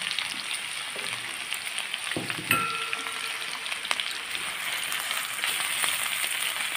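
Ginger garlic paste fries in a pan for a fresh sarpunti fish curry, giving a steady, close crackling sizzle, with a few stirring scrapes and a brief clink of a utensil against the pan.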